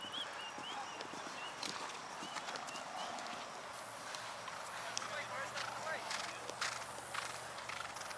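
Hooves of horses in a polo game at the Kentucky Horse Park in Lexington, a quick irregular clip-clop at some distance under someone talking.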